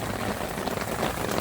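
Steady rain falls at a campsite, a dense, even patter close by on tents and gear. It holds constant throughout with no voices.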